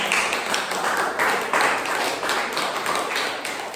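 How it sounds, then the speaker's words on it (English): An audience at a talk at the Freedom Summit in Bali claps together, a steady patter of many hands at moderate volume that continues for a few seconds with no one speaking. "Give yourselves a round of applause."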